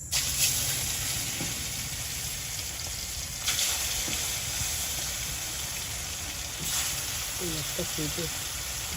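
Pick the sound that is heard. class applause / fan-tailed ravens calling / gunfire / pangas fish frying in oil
pangas fish frying in oil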